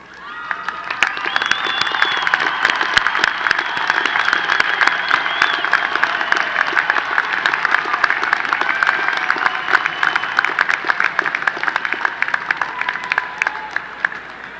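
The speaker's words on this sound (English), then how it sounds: "receive our applause?" Sustained applause from a commencement crowd honoring academic honors graduates of a university engineering and computer science college, dense steady clapping with some cheering and shouts, loud and continuous throughout.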